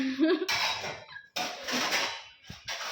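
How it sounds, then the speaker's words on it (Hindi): Dishes and utensils clatter nearby in a dark house, bursts of clinking and scraping split by short pauses. "बताओ अंधेरे घर में कैसे बर्तन की आवाज़ कर रहा है।"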